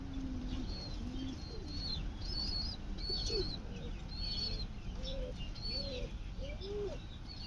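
Pigeons with head crests and feathered feet coo in low repeated phrases, soft and close, alongside thin high chirps and a little wing flutter against quiet background noise.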